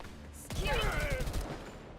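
A short, close burst of rapid gunfire in the shooter game Girl's Frontline 2: Exilium, with several quick shots during the tutorial, followed by a brief tail of ringing.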